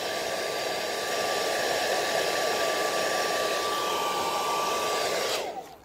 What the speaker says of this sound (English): So I'm going to get the heat. As I mentioned, heat it up just to help us stick in that corner.